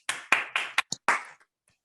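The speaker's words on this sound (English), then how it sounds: "Now we can applaud." A handful of sharp, separate claps heard over a video call, about six quick hits in a sparse burst that stops after a second, close and fairly faint.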